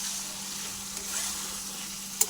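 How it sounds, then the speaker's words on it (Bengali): Mutton being stir-fried and braised in oil in a pan, giving a steady, even sizzle throughout with a faint scrape of stirring near the end and no talking. "এই দেখো মাটনটা কষানো হচ্ছে"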